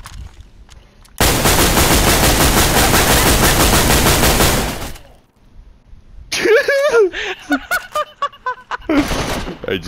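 Full-auto video game gunfire, a long unbroken burst of rapid shots lasting several seconds. Excited talking and a few shorter bursts follow after it.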